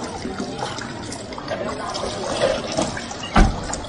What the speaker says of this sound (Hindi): और देखो सब नेचुरल वाटर है, ब्यूटी वाटरफॉल से डायरेक्ट आ रहा है।